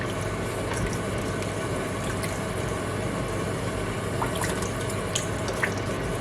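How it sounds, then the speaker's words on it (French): Half a litre of water is poured into a sauce for bouchées à la reine, giving a steady splashing, trickling stream with small drips, close and continuous throughout. "je vais mettre un demi-litre d'eau"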